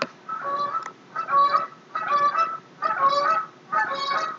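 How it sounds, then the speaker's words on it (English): Geese flying overhead honk in a steady series of five rhythmic bursts, fairly clear and moderately loud, with no talking over them. "sorry about the geese flying overhead"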